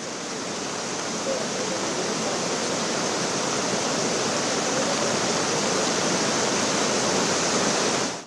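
Floodwater pours at Godaghat in Nashik as a steady, loud, broadband roar that never lets up, close and dense like a rushing torrent, with no voices.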